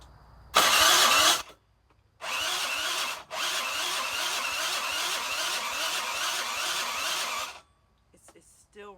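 An old, cheap junk moped engine sputters briefly, falls quiet, then catches and runs for several seconds with a rapid, buzzing pulse before cutting out, heard up close.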